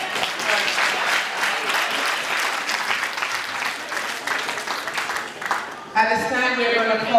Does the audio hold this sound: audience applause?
yes